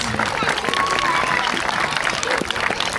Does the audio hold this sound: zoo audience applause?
yes